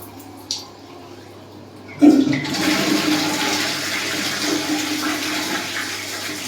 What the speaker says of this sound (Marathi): आणि हे फ्लश